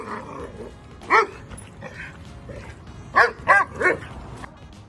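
A reactive Romanian rescue dog lets out sharp barks and yips: one bark early on, then a quick cluster of three near the end, with faint whimpering and background noise in between.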